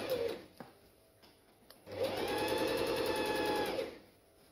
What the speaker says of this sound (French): je baisse le pied, je baisse l'aiguille, j'enlève la première épingle Et j'y vais. Bien sûr, je couds à 1 cm du bord.